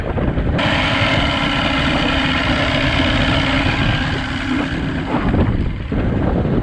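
A 1982 Glasstream boat's Chrysler 100hp outboard motor runs steadily with a low, continuous drone, mixed with gusty wind noise across the microphone; no talking.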